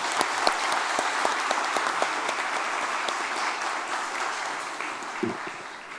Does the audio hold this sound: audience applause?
yes